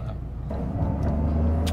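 A Toyota GR Corolla fitted with an aftermarket A'PEXi exhaust gives a steady, close, deep engine rumble that swells a little louder after the first half second and keeps droning evenly to the end.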